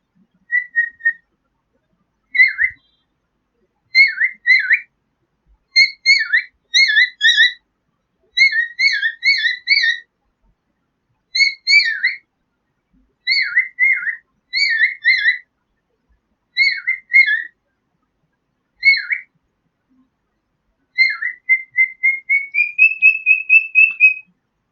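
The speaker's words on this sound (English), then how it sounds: "This is parrot." A parrot giving loud, clear whistled calls in rapid repeated bursts, close and alone against silence, with short pauses between phrases and a rising whistle at the end.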